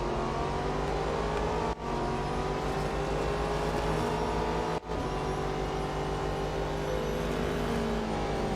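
Race car engines in Real Racing 3 drone loudly and keep droning, with rising and falling pitch through gear changes and two brief cuts in the sound, and several cars run close together.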